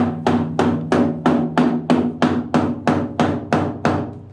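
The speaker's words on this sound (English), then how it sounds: "he's doing it sort of Khmer style with the Cambodian hammer" A hammer drives in a fixing for an earth cable during a hot water system install in Cambodia, about a dozen sharp, evenly spaced blows ringing out loud and close, with no talking.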